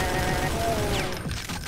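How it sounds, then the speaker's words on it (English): A combat rifle fires in rapid automatic bursts in the video game Brutal Doom, a dense, loud stream of shots layered over game sounds and continuing throughout. "time to actually get out the combat rifle"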